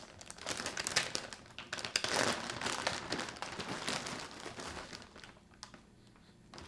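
A large plastic bag of Berry Bunch Crunch cereal being handled up close gives a dense run of crinkling and rustling with sharper crackles around one and two seconds, fading to sparse faint rustles near the end.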